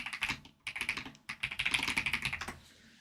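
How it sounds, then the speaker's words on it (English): Rapid typing on a computer keyboard with a smooth, creamy-sounding tone, heard up close as dense bursts of soft clicks separated by a couple of brief pauses, with no voices. "Creamy keyboard time."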